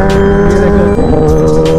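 A loud Kawasaki ZX10R superbike engine drones steadily close by while riding, its strong, continuous tone rising and falling only slightly throughout.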